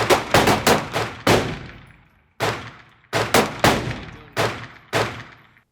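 Smith & Wesson M&P 10mm pistol fired at an outdoor range, eight loud sharp shots in quick uneven bursts, each ringing out with a short decaying echo and brief pauses between groups.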